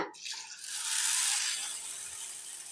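Water poured over washed rice and green gram lentils in a kitchen bowl, a close, steady hiss of running liquid that swells midway and then eases, with no talking.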